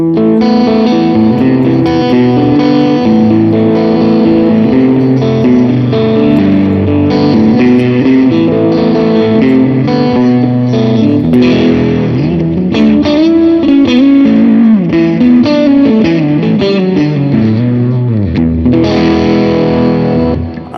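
An electric guitar played through a Vox AC30 amp plugin on the second pickup position rings out in a continuous, bright, jangly strummed passage with light grit and effects, loud and close with no talking.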